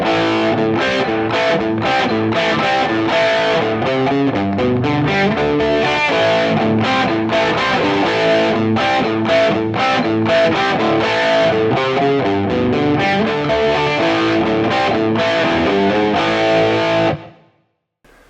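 A heavily distorted electric guitar plays the verse riff of a song, a loud, dense, chugging rock figure with steady rhythmic attacks that runs about seventeen seconds before stopping abruptly, with no talking.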